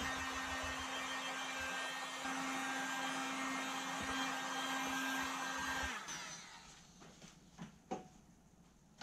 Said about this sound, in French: De nouveau un petit coup de décapeur thermique pour sécher tout ça.